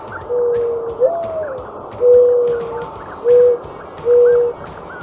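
Soft, low hooting calls repeat about four times with short gaps, each a steady drawn-out note, over a quiet outdoor background.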